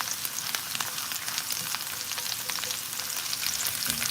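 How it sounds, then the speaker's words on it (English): Onions and garlic sizzle in oil in a cast iron skillet, the start of a shepherd's pie. A steady, dense crackle and hiss runs close and even throughout, with no voices. "we're gonna start sweating our onions and our garlic to flavor up our oil"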